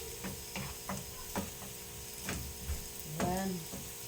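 Garlic and onion sizzle softly in melted butter in a pan, a faint steady frying hiss broken by scraping and clinking utensil strokes.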